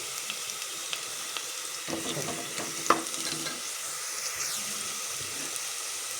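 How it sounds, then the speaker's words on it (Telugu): Onions fry in the tempering for a broad bean and potato curry, giving a steady soft sizzle with stirring scrapes and one sharp clink of a utensil midway. "తాలింపు వచ్చేసి ఉల్లిపాయలు అవి వేగిపోయాయి"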